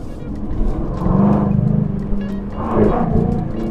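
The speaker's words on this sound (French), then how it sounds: "Ça c'est une V8 supercharger." A Jaguar F-Type P450's 450-horsepower supercharged V8 growls and revs up twice nearby, a deep throaty rumble swelling and easing.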